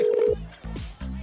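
Office telephones ring in short electronic bursts, a steady tone then repeated trilling pulses, fairly loud and close, with no talking over them.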